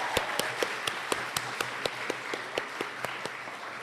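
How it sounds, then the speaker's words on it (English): At a New York speech event, the crowd claps in a steady, evenly spaced rhythm, each clap distinct and fairly quiet over a soft background, holding a regular beat for a few seconds. "Another round of applause for Raheem Kassam,"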